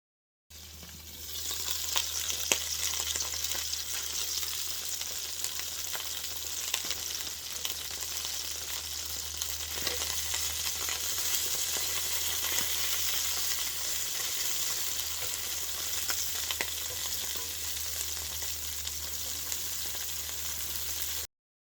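Eggplant and tofu frying in a pan, a strong, continuous crackling sizzle with small pops throughout, close and steady over a low hum, no voices.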